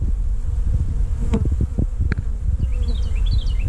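Honey bees from a swarm colony buzzing around a comb, a dense, close, continuous hum with individual bees droning past, loud and steady throughout.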